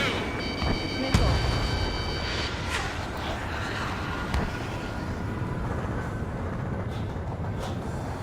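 In an Ace Combat 7 jet fight, a missile launches with a sharp burst, then explosions rumble under constant engine roar, with cockpit warning tones and radio voices speaking.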